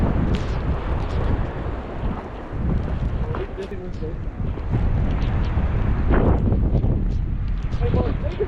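Strong, gusty wind of 45-60 mph roars over a mountain summit at Bald Knob near Mountain Lake, Virginia, buffeting the microphone continuously, with people talking under the wind.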